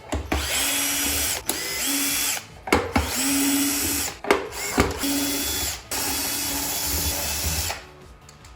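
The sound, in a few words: drill with Torx T10 bit removing screws from Folletto VK140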